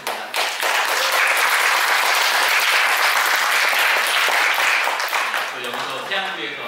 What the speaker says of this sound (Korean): 잠깐 일어나시면은 한번 박수로 환영했으면 좋겠습니다